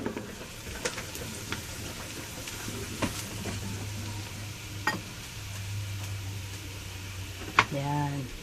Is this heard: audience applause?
no